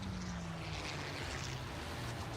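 Propeller-driven depth charge bomber aircraft in the World of Warships video game drone steadily, a constant engine rumble with a wavering tone that continues evenly throughout and has no talking over it.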